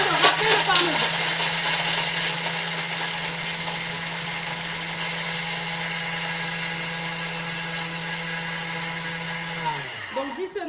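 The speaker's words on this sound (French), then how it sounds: "Donc là, on va y aller pour quelques secondes en vitesse 10. Ça va faire un peu de bruit. Le temps de râper le parmesan." A food processor runs at top speed 10 for several seconds, grating parmesan with lemon zest and pepper: a loud, steady motor whine with a strong constant hum that winds down and stops near the end.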